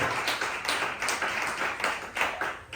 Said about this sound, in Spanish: Dele fuerte palmas al Señor Jesucristo en esta noche, en esta tarde